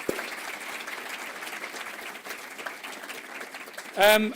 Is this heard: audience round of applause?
yes